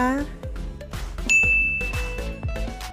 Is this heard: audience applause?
no